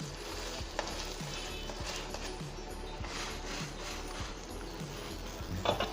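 A paratha fries in ghee on a griddle with a steady, close sizzle that continues throughout, broken by a few faint knocks and scrapes as it is handled.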